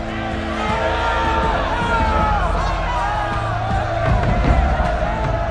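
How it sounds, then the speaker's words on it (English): A large crowd roars with mixed cheers, whoops and shouted cries, a dense continuous din of many voices. "But amid the applause, there were also cries of protest."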